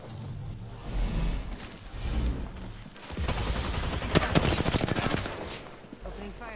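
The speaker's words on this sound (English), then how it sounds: "Opening fire." Bursts of automatic gunfire from the Apex Legends battle royale game, a short volley early on, then a denser rattling stretch of rapid shots with whooshing effects, mixed with game sound.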